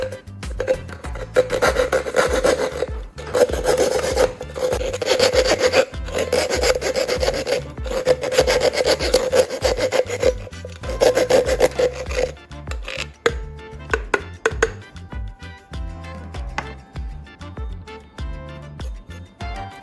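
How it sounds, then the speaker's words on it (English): Steady rasping and rubbing of a tool against the cut edge of a metal can, repeated in strokes, loud and close, easing into lighter scraping toward the end; no talking. "I will smooth out the cut edge to avoid sharp edges"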